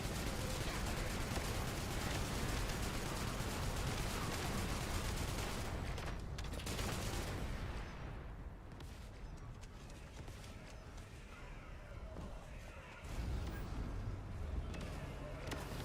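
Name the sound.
Jaber turrets firing in a video game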